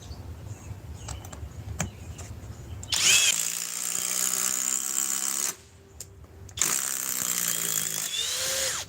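A DeWalt 860 power tool starts up with a loud, high whirring run, stops briefly, then runs again, following some quieter handling noises at the start.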